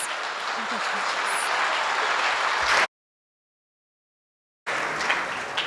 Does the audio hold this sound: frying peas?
no